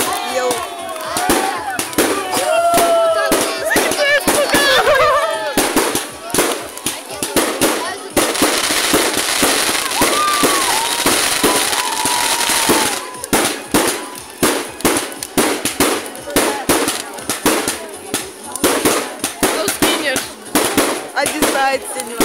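Fireworks salute bursting over a summer camp, with dense rapid crackling pops and bangs going on almost nonstop, loud and fairly near, as a crowd of people talk and shout.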